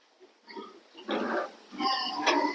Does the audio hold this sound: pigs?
yes